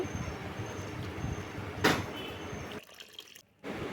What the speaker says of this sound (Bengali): মুসুরির ডালটা ভালো করে ধুয়ে নেব।